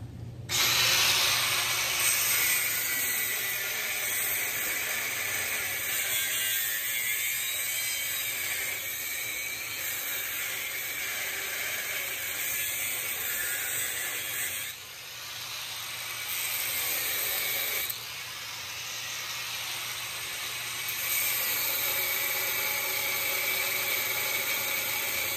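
Angle grinder cutting into a truck part in a repair shop, a loud continuous high-pitched whine with a steady hiss, briefly dipping twice as the cut eases, no voices.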